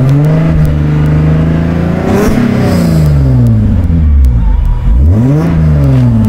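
A 1995 Acura Legend with Remus exhaust and headers revs hard several times, its engine note rising and falling in loud, close sweeps with no talking.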